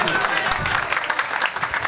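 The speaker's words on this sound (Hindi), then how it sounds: "जोरदार तालियां अंकुश चौधरी के लिए" Brief burst of audience clapping at an outdoor mushaira poetry gathering, a dense crackle of many hands lasting under two seconds, with a voice audible over it.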